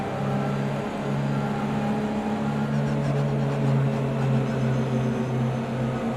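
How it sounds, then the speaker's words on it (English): A race car engine in Project CARS 2 idles in the pits, holding a steady low drone with a faint whirring hum layered above it, constant and close, no talk. "Just allowing the engine to cool down now."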